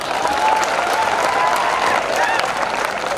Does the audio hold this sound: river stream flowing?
no